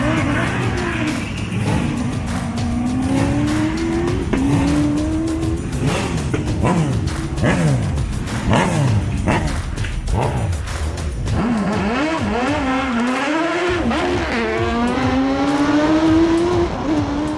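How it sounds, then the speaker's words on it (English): A hill climb race car with a Hayabusa engine screams through rising gears, revving hard and loud as it accelerates away, the high-pitched note climbing repeatedly over steady mechanical roar. "an absolutely ballistic hole shot from that Hayabusa engine"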